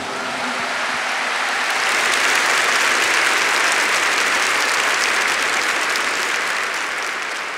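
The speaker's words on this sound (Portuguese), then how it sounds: "Muito aplauso ao Senhor por isso." A church audience applauding, a broad wash of many hands clapping that swells and holds steady throughout.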